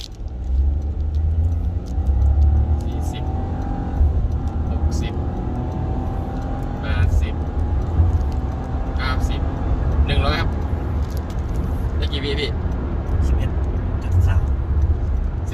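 A 2020 Honda City with a 1,000 cc turbo engine accelerates hard in a 0-100 km/h test, heard from inside the cabin. A continuous engine and road rumble rises in pitch, and people talk over it throughout.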